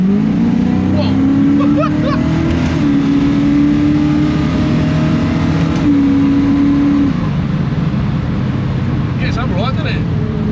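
A BMW E21 fitted with a 5.8-litre Chevy V8 accelerates hard, its loud, close engine roaring and climbing through revs in pulls, with people talking over it.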